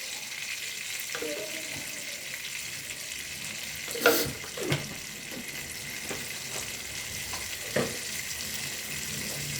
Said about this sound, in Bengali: এই তেলের মধ্যেই আমি সরষের তেল দিয়ে দেব পরিমাণ মতো।